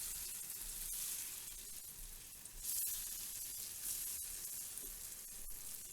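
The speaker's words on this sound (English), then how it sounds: "we take the rest of the butter that we reserved earlier and we stir it in to melt the rest of that butter completely" Reserved butter is stirred into browned butter in a pan, making a steady bright sizzle with a few faint scrapes of the spoon, continuous and fairly quiet with no voices.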